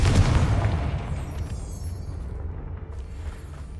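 A Confringo spell blast in Hogwarts Legacy lands as a single loud, low boom at the start, rolling off into a dull rumble that fades over a few seconds.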